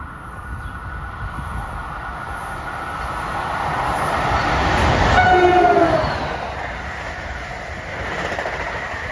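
An Amtrak train passes on the Northeast Corridor at Metropark, New Jersey, with a steady rail rumble building to a peak as a short horn blast sounds, then fading as the cars roll on.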